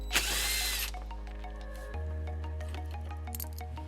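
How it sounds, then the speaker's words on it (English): A power tool whirs briefly up close while a 10mm bolt is being removed on a 2003 Honda CR-V, then stops, leaving light clicks and small clinks of handling with no talk. "So now we're going to remove the 10mm bolt that is right here"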